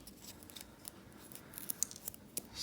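A knife whittles wood while carving a small Santa Claus figure, with quiet scraping and shaving strokes and a few sharper snicks toward the end, close and faint with no talking.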